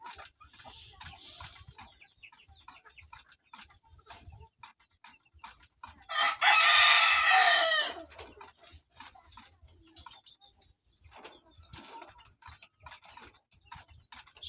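A Shamo rooster in a small backyard gives one loud crow lasting about two seconds, set among scattered faint clucks, ticks and quiet farmyard noise.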